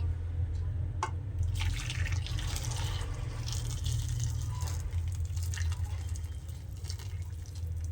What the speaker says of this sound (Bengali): এখন গরম গরম গুড়ের মিশ্রণটা পিঠের মধ্যে ঢেলে দিচ্ছি।